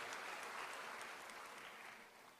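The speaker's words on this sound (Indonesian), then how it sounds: "mari kita berikan aplaus kepada para panitia dengan kerja kerasnya" A university graduation ceremony audience applauds as a dense, steady wash of clapping that fades slightly toward the end, heard without talk.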